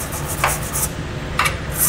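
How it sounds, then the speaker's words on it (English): Stiff bristled brush scrubbing dirt and corrosion from inside the weld nuts of a vehicle frame while a hidden trailer hitch receiver is fitted, a steady rasping rub with a few sharper strokes, close and alone. "then we'll take a bristled brush to get out any dirt, debris, corrosion, or anything else in there"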